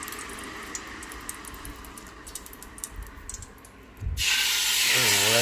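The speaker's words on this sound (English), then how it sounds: "You hear that nice sizzle?" Light clicks and handling noises, then a sudden loud, steady sizzle of a beef chuck roast hitting a hot Ninja Foodi Grill, continuing strongly to the end.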